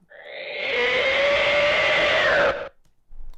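A human voice imitates a dinosaur roar, reversed and pitch-shifted, producing one sustained, swelling, growly cry that holds for about two seconds and then cuts off abruptly.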